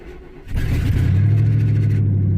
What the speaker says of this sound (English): start the truck and let it sit there and warm up.